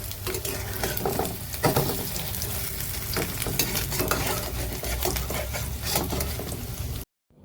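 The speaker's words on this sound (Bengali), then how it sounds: "কড়া ভাজা হয়ে গেছে, এখন আমি এটাকে তুলে দেবো।" Egg toast made with milk, fried until crisp, sizzles steadily in a pan as a spatula scrapes and lifts it, the hiss running continuously until it stops suddenly at the end.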